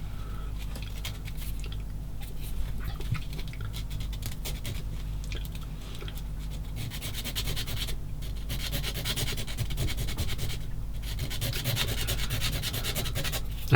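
A sanding stick is worked over a part of a 1/16 Takom M10 IIC Achilles British tank destroyer scale model. It makes a steady, close scratchy rubbing with rhythmic strokes that continues throughout, and no one speaks.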